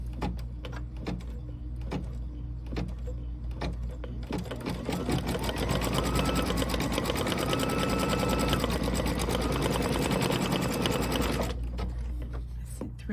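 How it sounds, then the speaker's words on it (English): A sewing or embroidery machine stitches a snowflake design, running in a steady, loud, fast mechanical whir for about eleven seconds before stopping and leaving a quieter hum. "we're going to put our foot down and start stitching our snowflake"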